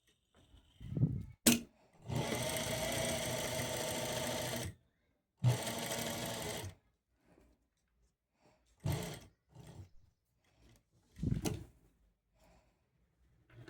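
A sewing machine stitches a blouse in two close, sustained bursts of steady whirring, separated by pauses filled with faint handling clicks and taps.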